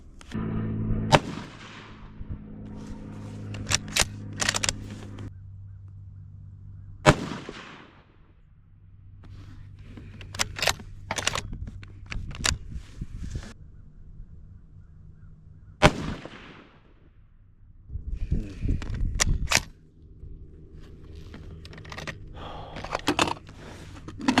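Rifle shots from a Ruger American Gen 2 in .223 firing Hornady Black ammunition outdoors: three loud, sharp cracks spaced several seconds apart, each with a brief echoing tail and quieter handling noise in between.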